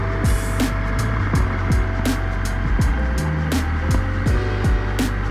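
An Indian FTR 1200 naked motorcycle being ridden gives a steady close engine drone under constant wind rush, with a few brief louder surges along the way.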